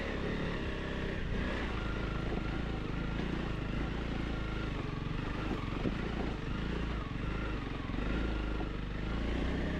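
A Honda CRF300L Rally motorcycle crawls up a steep mountain dirt road in first gear, its engine droning steadily and continuously with broadband wind and road noise throughout, loud and close.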